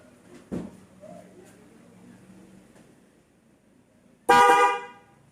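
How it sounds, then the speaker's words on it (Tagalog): After a few quiet knocks and faint sounds, a single loud car horn blares for about a second, bright and close, then cuts off. "So Denso Snail horn with relay."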